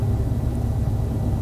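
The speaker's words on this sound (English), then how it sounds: "Start the engine, put our belt on." A car engine in Car Driving Simulator, a steady low rumbling drone held at an even loudness for the whole moment, with no voices over it.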